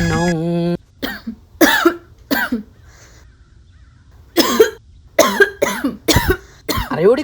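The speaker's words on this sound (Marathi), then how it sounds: "अरे एवढी काय खोकलतीये, दवाखान्यात गेलती का नाही तू" A woman coughs repeatedly in sharp, loud, close bursts, a single cough, a pause, then a quick run of several in a row.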